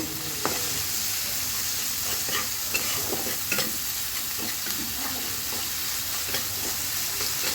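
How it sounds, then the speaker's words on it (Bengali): Spices stir-fried in oil crackle with a constant close sizzle, while a spatula scrapes and taps the pan in an uneven rhythm and no one speaks. "মশলাটাকে একটু কষিয়ে নেব।"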